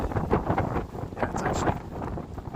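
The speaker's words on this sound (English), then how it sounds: "it actually is pretty windy" Wind blowing on a cold evening, buffeting the microphone outdoors during a bike ride: continuous rough rumbling gusts, fairly loud and close, with no clear speech.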